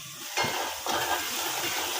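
A paste of green chili, garlic and ground peanuts with a little turmeric sizzles in a frying pan, with two distinct scraping stir strokes over the continuous close, fairly quiet frying hiss.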